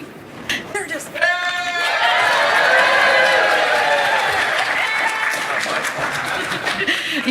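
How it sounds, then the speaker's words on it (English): A live radio show audience breaks into applause with some cheering, building from scattered claps into a loud sustained crowd roar, with voices and whoops mixed in. "you can go ahead and applaud then"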